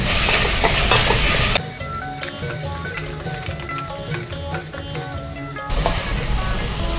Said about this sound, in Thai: แล้วก็ใส่หมูลงไปคั่วกับพริกนะคะ ไปผัดกับพริกก่อน